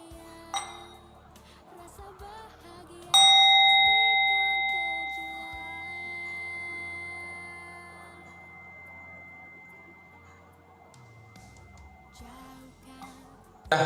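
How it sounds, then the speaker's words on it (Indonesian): Mindfulness bell struck once by a teacher, a clear ringing tone that swells then slowly decays over several seconds, with quiet background noise and a faint earlier tap. "dengarkan bunyi dari lonceng kesadaran yang akan teacher bunyikan"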